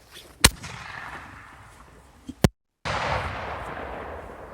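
A TXB203 Koneser triplex firework launcher with a flare fires two sharp, loud bangs about two seconds apart. A brief gap follows, then a steady, rough hissing rush that carries on to the end.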